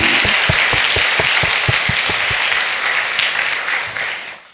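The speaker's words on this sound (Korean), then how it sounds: "우리 영광 받으실 하나님께 더 크게 박수 쳐봅시다." A church congregation claps loudly together, a fairly regular beat of strong claps over a wash of scattered clapping that tapers and fades toward the end.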